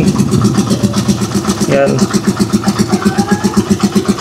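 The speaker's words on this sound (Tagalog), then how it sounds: "So napakatining ng makina natin." A Rusi Chariot 175 tricycle motorcycle engine with a fresh tune-up idles close by in a steady, rapid chug, loud and even, while someone talks over it.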